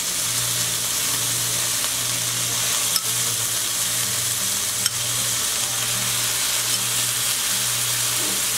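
Diced tomatoes frying in a pan, a steady close sizzle and crackle with a faint low hum running underneath and two brief clicks, no talk.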